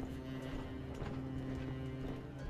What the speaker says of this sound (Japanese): 足音か。 まずいな。